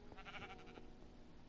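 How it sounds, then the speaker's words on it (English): A sheep in Minecraft gives one short, faint bleat up close, with quiet game background around it. "Hello, sheep."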